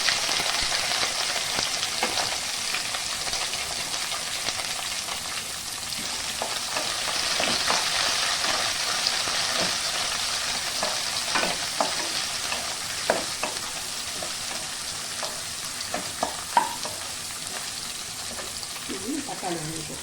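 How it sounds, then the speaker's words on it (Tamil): Onion, green chilies and tomato sautéing in oil in a pan for Chettinad puli kari, a steady dense sizzle with intermittent scraping stirs across twenty seconds and some faint talking underneath. "ஒரு நிமிஷம் வதங்கிட்டோம்."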